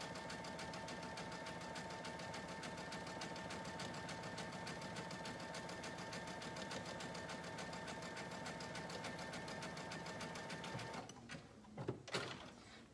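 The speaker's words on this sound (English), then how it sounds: "we are top stitching four individual sides of this pocket" A sewing machine runs in one long continuous burst while top stitching the sides of a fabric pocket, steady and close, stopping near the end with a few handling clatters.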